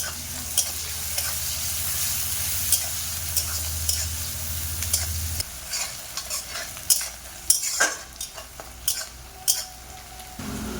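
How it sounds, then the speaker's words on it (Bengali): Chopped garlic, ginger and onion fry in hot oil with a continuous sizzle, joined by a low hum, then irregular scraping and clattering of a spatula stirring in the pan. "তেলের মধ্যে রসুন কুচি দেব।"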